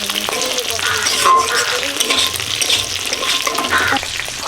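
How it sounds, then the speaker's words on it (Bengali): Saipon fish fries in a pan with turmeric, chili powder, cumin powder and salt, giving a loud, steady sizzle throughout, with stirring scrapes and occasional pops close by and no talking. "সাইপন মাছটা ভেজে নিচ্ছি"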